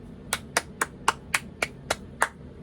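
A person claps their hands eight times at a steady, even pace, each clap sharp and close with no other sound around it.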